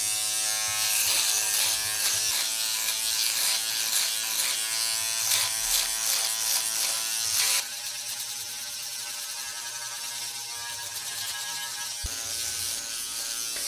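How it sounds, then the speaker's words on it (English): Philips Norelco electric shaver fitted with a body attachment, a close, steady high buzzing motor that runs continuously and drops to a quieter, thinner tone partway through, with no voices. "So I'm going to use my Philips Norelco shaver here that comes with this little body attachment for getting behind you."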